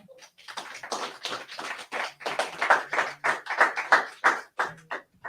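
Sharp, close hand claps from a gathering at a Purim feast sermon come in a steady rhythmic pattern, about a dozen distinct beats with short quiet gaps between them.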